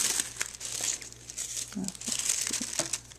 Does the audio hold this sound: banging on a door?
no